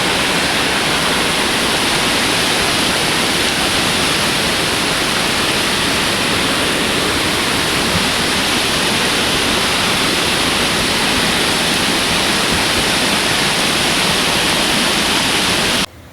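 Loud, steady roar of a rain-swollen stream in flood during heavy monsoon rain in Kerala, rushing water filling the whole stretch without a break until it cuts off at the end.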